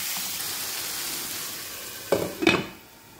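Tomatoes dropped into a hot pan with onion, garlic and ginger, giving two quick loud sizzling hisses near the end after a quiet stretch of soft frying.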